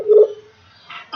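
Skype audio call ringing through a computer, a short electronic tone followed by a gap and another tonal burst, clear and close.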